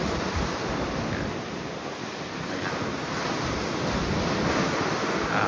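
Strong sea waves surge and wash continuously beside a cruise ship sailing from Florida toward the Dominican Republic, with steady wind buffeting the microphone into a loud, unbroken roar.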